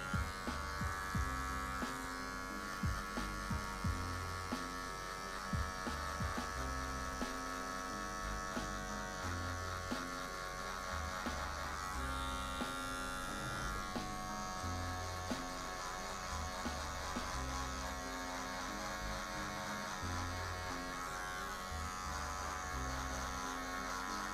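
A steady, buzzing drone of electric hair clippers running continuously up close, with small shifts as the blades move through hair.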